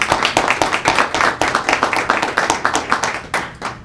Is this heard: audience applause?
yes